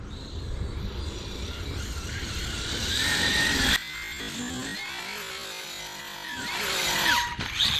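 A 30° North 5T radio-controlled truck's electric motor winds up into a loud, continuous high whine while crossing a jump outdoors, then drops off sharply and revs up again toward the end, with no talking.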